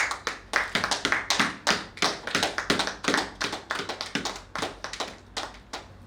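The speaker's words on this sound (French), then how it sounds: "Est-ce que nous pouvons applaudir?" Applause at a diplomatic reception where a peace-ambassador medal is presented, a small group clapping with distinct, close hand claps in a loose rhythm that continues steadily throughout.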